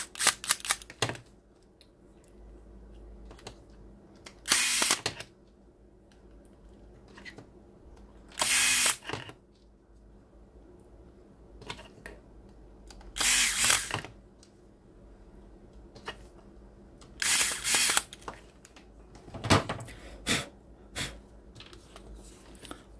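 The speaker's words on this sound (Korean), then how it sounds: "나사 5개를 전동으로 조립하도록 하겠습니다." An electric screwdriver drives five screws into an AKG K619 headphone during a cable repair: five short whirring bursts spaced a few seconds apart, close and clear over a quiet background.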